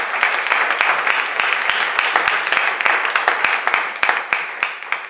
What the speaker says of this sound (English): how about one more round of applause for Mark Dvorak